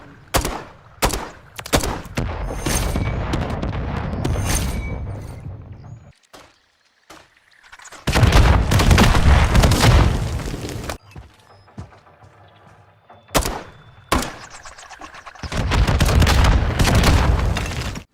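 RGL grenade launcher rounds are fired repeatedly in Modern Warfare III, each shot landing as a sharp, loud blast. Bursts of explosions come in rapid clusters separated by short quiet gaps.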